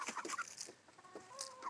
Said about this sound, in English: What are my sweet chickens doing?